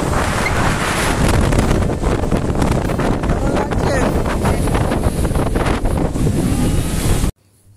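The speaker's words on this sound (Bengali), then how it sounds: "এখানে হাওয়াটা কত জোর দিচ্ছিল তোমরা বুঝতেই পারলে।" Strong wind buffets the microphone on Digha sea beach, a loud, continuous roar with surf underneath, holding steady for about seven seconds before cutting off abruptly.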